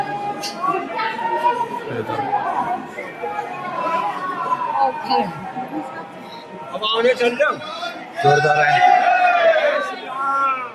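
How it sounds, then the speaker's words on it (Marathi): Dense crowd of pilgrims at the Ayodhya Ram temple, a steady murmur of many voices close around, with a louder surge of chatter near the end and people talking over it. "चला गर्दी आहे इथे"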